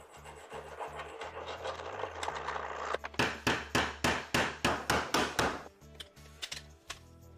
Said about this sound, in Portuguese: eu tenho uma lima aqui, então é isso que eu vou usar.